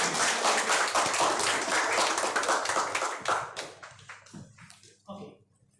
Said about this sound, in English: Let's hear some clapping.